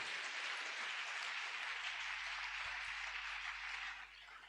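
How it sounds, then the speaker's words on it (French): Applause from a congregation at a church service, a dense steady wash of many hands clapping that carries on throughout and eases slightly toward the end. "Put your hands together for the word of God."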